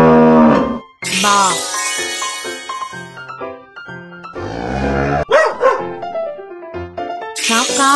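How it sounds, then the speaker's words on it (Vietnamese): A puppy barks in the Baby Panda mobile game, short yappy barks mixed in among chiming game tones and a lingering moo, fairly loud and close. "Chó con."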